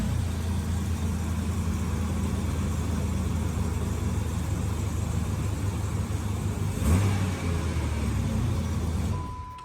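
A vehicle engine running at a steady, loud low rumble nearby, with one brief surge around the seventh second before the sound cuts off abruptly near the end.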